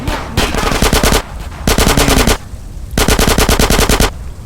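SMG fire in GTA San Andreas: three loud, close bursts of rapid automatic shots, each about a second long, separated by short pauses, with no talk over them.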